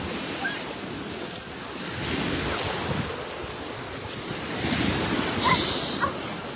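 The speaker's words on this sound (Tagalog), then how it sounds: "malakas na ang alon." Strong afternoon ocean waves on a beach rumble and wash in a continuous loud roar with surges, mixed with gusty wind buffeting the microphone.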